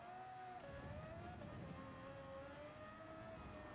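An F1 race car engine in the Gran Turismo video game holds a steady, high tonal whine that rises and dips slightly as it runs, fairly faint and without talk.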